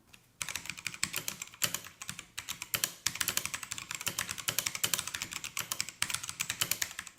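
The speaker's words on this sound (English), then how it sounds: "this wouldn't be a true keyboard review if we didn't have a sound test" Rapid typing on a Massdrop CTRL mechanical keyboard, close up, with crisp clacking keystrokes in uneven bursts and short pauses, no voices.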